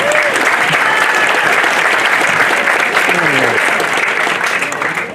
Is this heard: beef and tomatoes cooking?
no